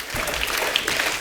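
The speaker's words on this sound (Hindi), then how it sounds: "एक बार जोरदार तालियां अक्षय बाजी के लिए" Loud studio audience applause for Akshay Kumar on a comedy show, dense and steady clapping filling the whole moment with a few sharper claps standing out.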